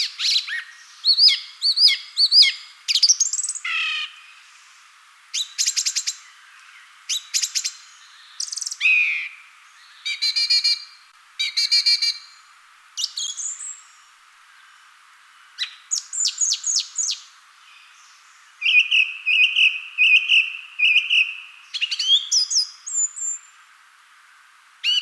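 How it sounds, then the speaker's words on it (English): A song thrush sings in open parkland, delivering bright, loud phrases repeated several times over, each burst separated by short pauses, with varied whistles and chirps carrying on alone for about twenty-five seconds. "So let's have a listen first of all to the song thrush."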